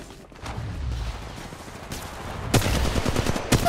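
Automatic gunfire in a ranked Apex Legends Mobile match played as Fade: loud, dense bursts of rapid shots crackle in from about midway, with short pauses between volleys over steady game ambience.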